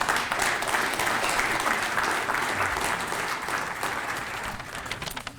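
Sustained applause from an audience at a public evening event honoring Frank Kelley, a steady, dense wash of clapping that continues throughout and eases slightly near the end.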